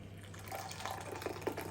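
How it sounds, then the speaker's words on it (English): Hot water from a kettle poured into gravy granules in a home kitchen, a faint, brief trickle with a few soft drips and splashes close by. "A little bit of water in to make the gravy."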